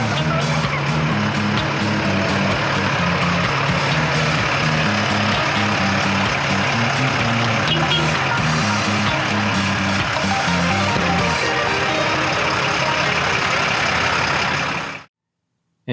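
M1078 LMTV military truck running and getting underway, a loud, continuous low diesel rumble with steady harmonics for about fifteen seconds before cutting off abruptly.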